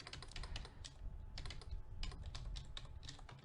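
Quiet, close typing on a computer keyboard, a steady run of quick key clicks in uneven bursts with no talking.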